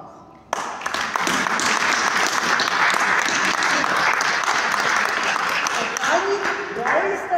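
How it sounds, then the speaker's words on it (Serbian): Audience applause at an event honouring a painter swells in suddenly and holds steady as dense, sustained clapping from many hands, with a voice returning near the end. "Molim vas aplauz."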